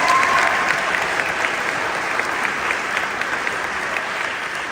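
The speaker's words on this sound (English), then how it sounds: "If we can give them a round of applause." An audience at a keynote gives a round of applause, with dense steady clapping from many hands that holds at a moderate level without a break.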